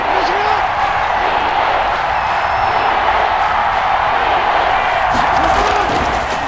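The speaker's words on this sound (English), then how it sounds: "The crowd getting into it as we come up on a big 3rd down." A stadium crowd roars and cheers before a big third down in a Madden Ultimate Team football video game, a loud, continuous wash of voices that holds steady throughout with no single voice standing out.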